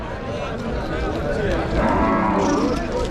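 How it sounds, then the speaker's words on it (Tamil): Native cattle at a busy cattle market in Vaniyambadi, a deep drawn-out moo rising over steady crowd noise and nearby voices, close and loud. "ஃபுல்லாக எல்லாம் நாட்டு மாடு தானே"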